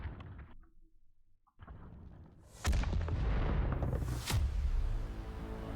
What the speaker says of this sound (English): And stuff is exploding.